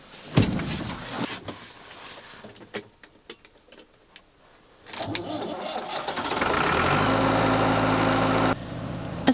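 A 1970s tractor engine cranks with a few scattered knocks, then catches and settles into a steady, loud mid-pitched idle that runs on for several seconds before cutting off abruptly.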